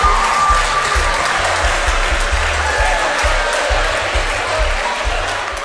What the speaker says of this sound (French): Maximum d'applaudissements, s'il vous plaît.